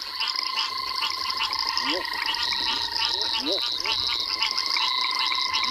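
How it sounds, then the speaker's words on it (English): A broad-banded grass frog gives a few short, rising whip-like calls, spaced apart, over a thick background chorus of trilling frogs. "there's that whip, whip, whip again of the broad-banded grass frog."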